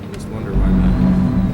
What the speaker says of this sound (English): the Jake brake freaks out like that